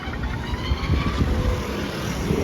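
A BMW car turns on a city street in The Hague, heard as a steady, fairly loud engine and road rumble with traffic noise throughout and no voices.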